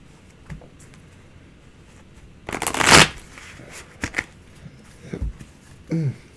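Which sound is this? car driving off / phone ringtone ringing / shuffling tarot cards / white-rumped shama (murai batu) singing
shuffling tarot cards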